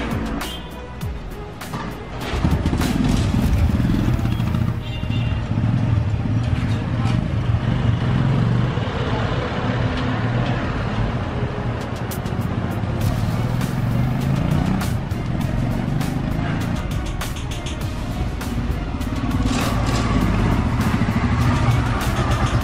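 A Royal Enfield Himalayan 400 motorcycle, which has no kick starter, is started in gear. After about two seconds the engine catches, then runs loud, close and steady for the rest of the stretch while someone speaks intermittently.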